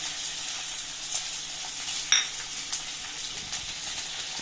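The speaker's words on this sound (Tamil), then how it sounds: "எல்லாத்தையும் இப்போ நல்லா கொஞ்சம் வதக்கி விட்டுக்கலாம்" Crushed garlic and ginger sizzle in a hot pan for a Burmese-style dish, a soft steady frying hiss with a few light clinks of a stirring utensil, close and unaccompanied by talk.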